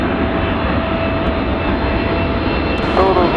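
A jet airliner on short final to runway 27 roars loud and steady at close range, a continuous broadband engine rumble with a faint whine, and no talking.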